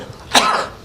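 A single short human cough, close and fairly loud, heard alone.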